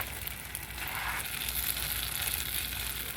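Lamb chops sizzle in a hot pan as a constant loud, close, bubbling hiss; the crackle briefly shifts partway through as the chops are turned, and no one speaks.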